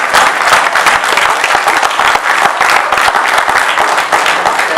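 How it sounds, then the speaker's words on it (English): Audience applause at a Board of Elections meeting, a steady, full burst of many hands clapping throughout, loud and close in the room. "And you all clap if you want to."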